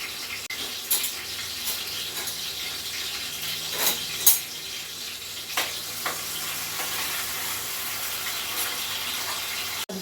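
Steady sizzling of onions frying in hot oil after mustard seeds, a constant hiss with occasional soft clinks and stirring sounds.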